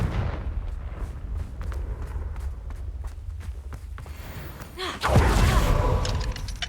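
A Confringo blasting spell explodes in the video game Hogwarts Legacy, a sudden loud burst erupting after a stretch of lighter footsteps and thuds, then rumbling on.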